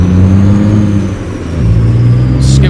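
A truck engine in American Truck Simulator drones loudly and steadily, dipping briefly before its pitch climbs again as it revs, close and dominant with no talk.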